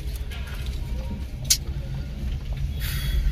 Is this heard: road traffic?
yes